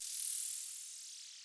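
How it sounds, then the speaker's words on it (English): Simon's Open Hat, an oddity sample for a G-funk beat: a single bright metallic hiss that hits at once and slowly fades over about a second, thin and airy with a descending shimmer, heard alone. "which is this sound right here. It's called Simon's Open Hat"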